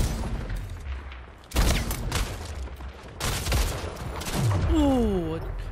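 Gunfire in the arena shooter Splitgate Arena comes as sharp, loud bursts of shots with booming impacts, followed by rising and falling electronic game tones.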